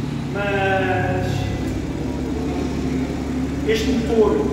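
A project car's stock engine with its original turbo runs at a steady idle hum while someone talks over it close by.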